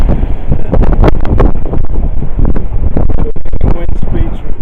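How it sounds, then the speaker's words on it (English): Strong wind at sea buffets a sailing boat with a reefed genoa, roaring loud and steady across the whole clip, mixed with water rush and hull noise, with heavy gusts battering the microphone. "it's bloody windy."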